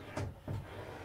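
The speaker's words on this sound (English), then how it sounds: "the door that will open and shut" Passenger door on a Triumph TR7 under restoration swings open and shuts, giving two soft, fairly quiet clunks about a third of a second apart, with no voices.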